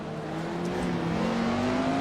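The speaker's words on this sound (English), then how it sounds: "Stamping on the throttle before I even know which way I'm pointing. That is a Lotus 49 way" Jim Clark's Lotus 49 race car engine climbs as the throttle opens, a close, loud rising howl with pitch sweeping steadily upward over about two seconds.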